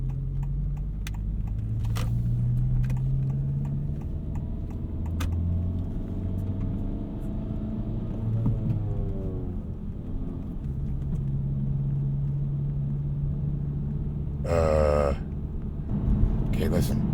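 A 2024 Honda Civic Si being driven, its engine droning low and steady with a thin whine as it coasts off throttle, under road rumble and interior clicks, with people talking over it.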